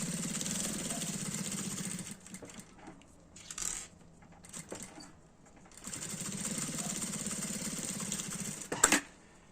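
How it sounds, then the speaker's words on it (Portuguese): Nearby, a sewing machine runs along the side seams of a multipurpose fabric case, topstitching close to the edge past a half-ring; two longer stretches of steady motor hum are split by a quiet pause and a clunk near the end. "Eu gosto de passar uma costurinha nas duas laterais, porque eu acho que fica mais bonito"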